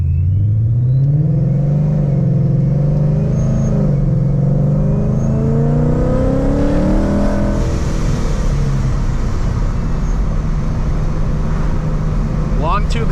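A loud 700 hp supercharged Ford Mustang engine with headers revs and roars up close, pitch rising and falling steadily, a deep continuous exhaust rumble throughout with no rasp.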